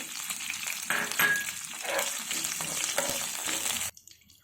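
Cumin, curry leaves and three dried red chillies sizzle and crackle loudly in hot oil with some stirring, then the sound cuts off abruptly near the end.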